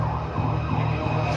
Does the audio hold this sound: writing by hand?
no